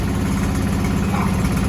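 A 1972 Volkswagen Westfalia engine idles close by with a loud, steady, even low rumble and pulsing throb that holds throughout, with no speech over it.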